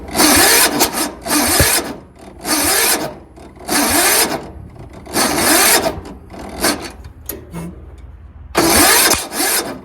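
A Tecumseh 13.5 HP engine on a Yard Machines lawn tractor cranks slowly and fails to start, its starter grinding in repeated labored bursts separated by short pauses, loud and close.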